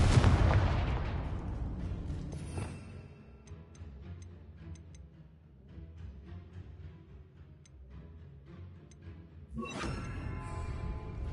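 A Confringo fire spell bursts in Hogwarts Legacy: a loud blast at the start decays into crackling ticks and small pops, then a second sharp burst flares near the end, with no talk over it.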